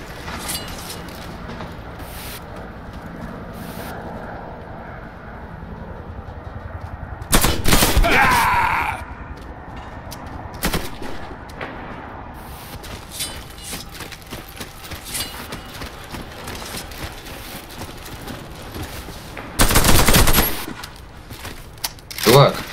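Gunfire in a first-person video game, with running and shooting: sharp, loud bursts of shots break out twice above steady game noise, scattered with smaller clicks and impacts, while voices chat in the background.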